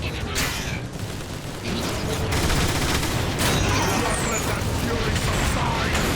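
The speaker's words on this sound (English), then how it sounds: "What are you shooting at?" Continuous heavy gunfire and explosive blasts in the Transformers: War for Cybertron video game, loud and dense throughout, with a robotic voice speaking over the shooting.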